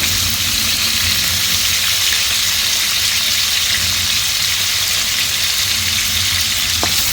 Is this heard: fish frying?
yes